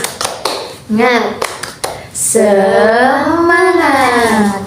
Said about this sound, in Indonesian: Ice breakingnya yaitu tepuk semangat